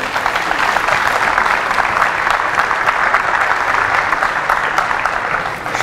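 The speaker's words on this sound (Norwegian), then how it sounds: "Jeg synes vi skal gi jentene applaus for fokus." Loud, sustained applause from an audience for a girls' handball team, an even wash of many hands clapping throughout with no voices standing out.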